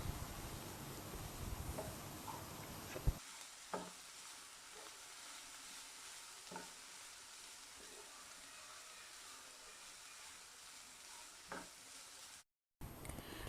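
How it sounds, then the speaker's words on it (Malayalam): Crushed beef mixture sautéing in a pan sizzles softly throughout, with a few sharp clinks of a spoon stirring against the pan and no talking. "അപ്പോൾ അതും കൂടി ഇട്ടിട്ട് നന്നായിട്ട് ഒന്ന് വഴറ്റിയെടുക്കുക."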